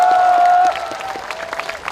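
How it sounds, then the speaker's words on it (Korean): A crowd at a candlelight memorial rally for Sewol ferry victims breaks into clapping, which starts under a sustained high whistling tone and then continues as steady, moderately loud massed applause. "맞으면 박수 한번 쳐주십시오."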